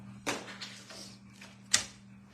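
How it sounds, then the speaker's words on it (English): A 3/8 inch hand punch cutting a small fabric ball during a quilting scraps project, heard as two close, crisp clicks or snips about a second and a half apart over a faint steady hum. "I happen to have a 3/8 inch punch that's going to snip that"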